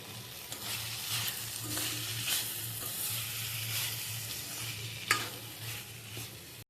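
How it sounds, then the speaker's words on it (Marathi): Spiny gourd (kantola) is stirred in a hot pan over a soft, continuous sizzle of frying, with occasional sharp scrapes and clicks from the spoon against the pan. "आता मी ह्याच्यातनं सविस्पुरतं मीठ टाकते चांगलं ढवळून घेऊया"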